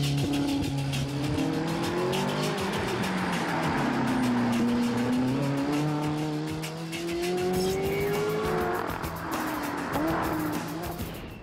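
A Ferrari FF, a four-seat, all-wheel-drive supercar, drives hard with its engine revving up and down in long rising and falling sweeps, loud and close throughout, with some tire noise.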